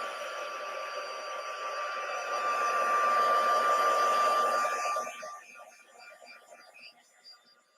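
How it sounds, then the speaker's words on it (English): Nearby, a heat gun blows with a loud, hissing whine that keeps a steady tone, swells for a few seconds, then drops away to a fainter rush. "I'm going to get my heat gun going now. So it's going to get loud for a minute."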